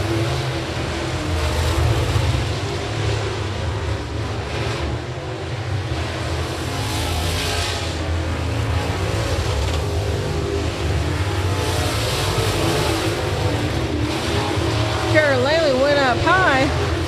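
Stock cars roar around the Big O Speedway oval in a steady, loud engine drone that persists throughout, with a track announcer talking over the racing noise.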